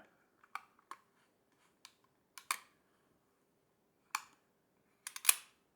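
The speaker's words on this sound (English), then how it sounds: "And once we have pressed the shutter, we can progress the film." Film advance on a 35mm film camera such as a Fujica, Minolta or Voigtländer Vitoret D: a sparse series of small, dry mechanical clicks and ratchet snaps, close and quiet with silence between them.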